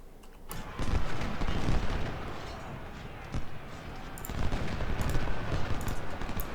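Heavy cannon fire booms repeatedly amid a dense, rumbling barrage of blasts, loud and continuous like a battle scene, from the video game Ultimate General: Civil War during the Battle of Shiloh.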